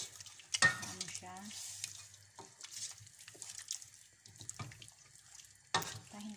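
Milk is stirred into a creamy chicken pastel sauce in a pan, a soft sloshing, scraping stir with a faint sizzle underneath and a couple of louder clanks against the pot.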